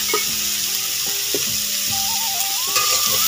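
Pointed gourd, potato, onion and green chili sizzle in hot oil with a nigella seed tempering, a dense, steady frying hiss broken by a few soft stirring scrapes, close and without voices.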